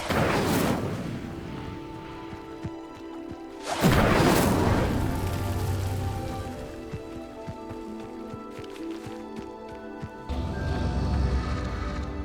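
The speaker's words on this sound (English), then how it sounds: "The flames make the pyre sink." Incendio fire spell cast in Hogwarts Legacy: two loud crackling whooshing bursts near the start and at about four seconds, followed by a low rumbling roar as the pyre sinks, with game ambience beneath.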